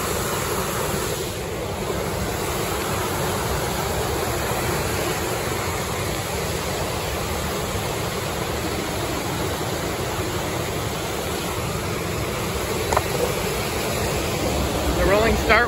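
A garden hose on a shower spray setting hisses in a steady, broadband wash of water, continuous and close for the whole stretch, with no voices.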